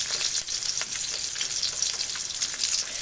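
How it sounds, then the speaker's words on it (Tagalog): Smoked fish (tinapa and galunggong) fries in a pan of oil, giving a steady, close, dense sizzle and spattering crackle that runs throughout with no talk. "So ngayon, nagpiprito po ako"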